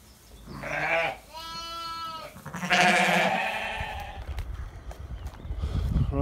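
Sheep that have slipped through a faulty gate on a farm bleat loudly and close by at breakfast time, a few long wavering calls in succession over a steady outdoor background.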